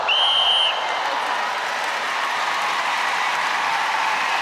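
Spectators at an international netball match between New Zealand and Jamaica applaud in a steady, even patter of clapping that fills the arena, following a brief whistle-like tone at the start.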